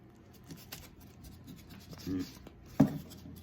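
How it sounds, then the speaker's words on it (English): A knife saws through the crust of a slice of bread in a few short scratchy strokes, faint and close, ending with a sharper crunchy cut. "we're going to cut the crust off here, man. Just like this."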